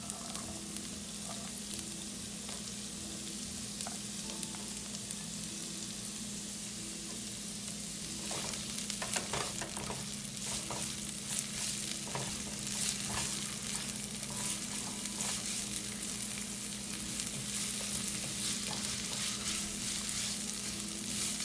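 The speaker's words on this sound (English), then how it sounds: "I'm just going to cook this for minute or two until the onions are slightly cooked" Chopped onions sizzle and fry steadily in a hot pan as the base of a red lentil and chickpea curry, a continuous crackling hiss with occasional stirring, close and fairly loud without talk.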